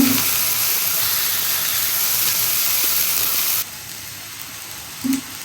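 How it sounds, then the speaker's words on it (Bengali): A little water poured into a hot frying pan with fried onions gives a loud, steady steaming hiss that cuts off abruptly partway through, leaving a quiet simmer and a brief clink; no one speaks. "দিয়ে দিব সামান্য পানি"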